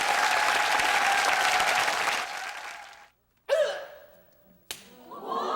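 Loud studio audience applause for a TV broadcast fills the first two seconds and fades out, followed by a few short sharp claps or slaps and a brief final burst.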